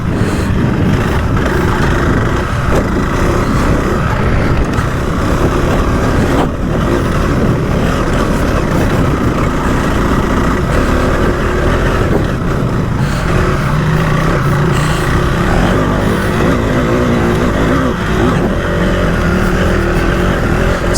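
A 2025 KTM 390 Adventure R motorcycle accelerates hard in first gear, its engine roaring loud and close alongside heavy wind rush that stays continuous throughout.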